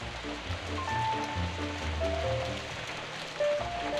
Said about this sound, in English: This is rain, yeah, this is Somerset.